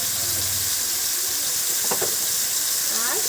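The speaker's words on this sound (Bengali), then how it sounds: "আর সামান্য পরিমাণ হলুদ দিয়ে বেগুনটা ভেজে নেব" Eggplant frying in a pan with salt and turmeric, a steady close sizzle running throughout with a few faint stirring scrapes and brief background sounds.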